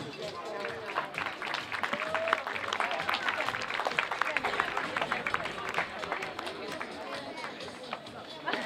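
An outdoor crowd at a running race applauds the winners with a long, dense patter of clapping. Chatter and a voice speaking carry underneath throughout.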